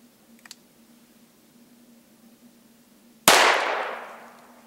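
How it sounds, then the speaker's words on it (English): A single .410 shotgun round of buckshot goes off after a quiet lull, a sharp loud crack with a long fading tail, preceded by a couple of faint clicks. "Next, we're going to fire off a round of .410 buckshot."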